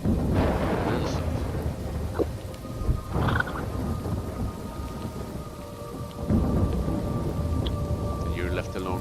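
Steady heavy rain pours over the whole stretch while rolling thunder rumbles several times, with booming swells near the start, middle and later on, loud and continuous with no voices.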